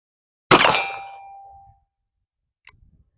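A .44 caliber round from an 1851 Colt Navy revolver strikes the edge of a steel target, a single loud ringing clang that decays over about a second, followed by a faint distant tick.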